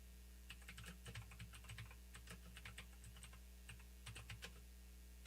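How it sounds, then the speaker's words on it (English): Quiet, irregular bursts of keystrokes on a computer keyboard clatter in quick clusters with short pauses, over a low steady electrical hum. "We're all typing."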